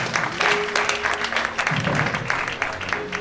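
A church congregation applauds during a worship service, a dense, continuous clapping from a crowd that holds steady through the moment, with some voices mixed in.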